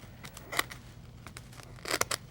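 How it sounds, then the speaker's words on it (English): Scissors snip several times into the corner of a craft piece, giving quick, close, crisp cuts in small clusters, with one near the start and a tight burst toward the end. "just take your scissors and cut into that corner a few spots"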